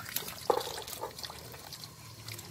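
Water flowing through the filter chamber of a clear koi pond, a soft close trickle with small splashy gurgles and one brighter splash early on, fairly quiet throughout.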